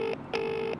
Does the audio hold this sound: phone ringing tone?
yes